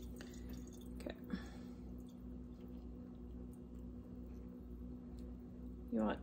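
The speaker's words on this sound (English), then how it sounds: "I'm going to add a little bit more water." Water is added to dirt to wet it through. A few faint, brief drips and trickles sound over a quiet, low background hum, with a slightly louder splash near the end.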